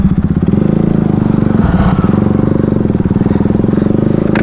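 A scooter is ridden at close range, its small engine droning steadily with a fast, rhythmic putter that holds through the whole stretch.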